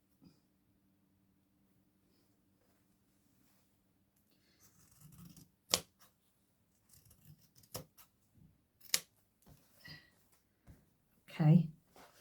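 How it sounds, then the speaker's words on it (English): Scissors cut fabric for a sewing project in a quiet room, making a few sharp, separate snips and soft rustles with silence between them. "I'm trying to think how best to cut it."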